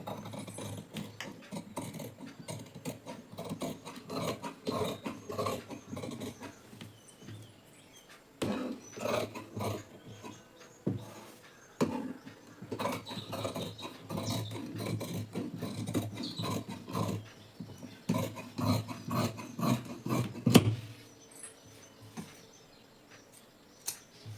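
Scissors cut through blouse fabric along drawn lines for the back piece, a steady close run of crisp snipping and rasping strokes with brief pauses.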